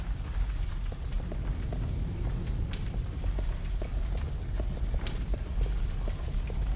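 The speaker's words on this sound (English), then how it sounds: "I hear footsteps." Steady rapid footsteps in a zombie video game, running with a rhythmic thudding patter over continuous low rumbling background noise.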